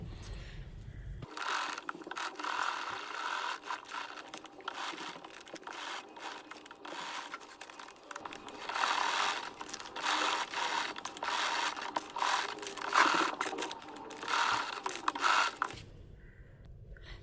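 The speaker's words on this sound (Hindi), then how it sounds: "इस तरह से करते हुए सिलाई लगानी है। तो इसको सिलाई लगाकर प्रॉपर तरीके से पूरा करते हैं" A sewing machine runs close by while a cross-tie blouse back design is stitched. The mechanical whirring continues almost without a break for about fifteen seconds, then stops, and no one speaks.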